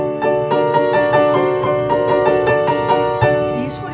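Piano chords played with strong right-hand fourth and fifth fingers ring out in a steady, forceful series of about a dozen bright, full strikes, close and loud, with no talking.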